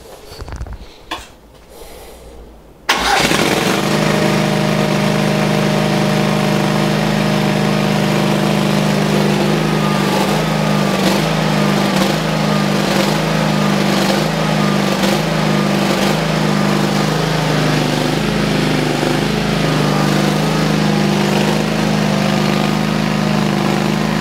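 Energo EB14.0/230-YLE generator engine starting up and running steadily with slightly fluctuating revs, a loud continuous droning hum with faint rhythmic pulsing, preceded by a few seconds of quieter handling noise.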